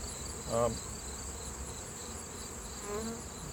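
A steady, faint honey bee buzzing drones throughout, with a couple of brief louder passes as individual bees fly close.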